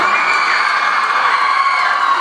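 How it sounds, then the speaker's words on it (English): A crowd at a convention Q&A session cheers and whoops loudly, with some high shouts in a continuous, dense wall of sound and no talking. "That's nothing to cheer at."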